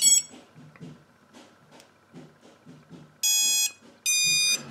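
An Eachine Tyro99 drone beeps at power-up when its battery is plugged in, giving two loud, shrill electronic tones about half a second each, following a stretch of quiet ticking and small handling noises.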